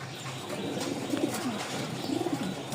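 Pigeons at a pigeon market coo in soft, low, repeated calls over steady background hubbub, fairly close, with no clear talking.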